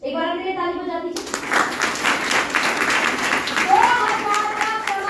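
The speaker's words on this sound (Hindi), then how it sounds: "एक बार अपने लिए ताली बजा दीजिए।" Room of trainees clapping for themselves at a business training session in Rudrapur, breaking into sustained applause after a spoken prompt, close and lively with some voices mixed in.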